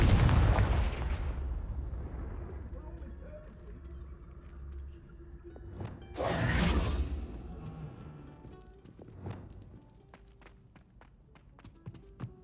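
Confringo blasting spells explode in Hogwarts Legacy on PS5: a loud burst opens, a second blast hits midway, and lighter impacts and footsteps fill the gaps between them.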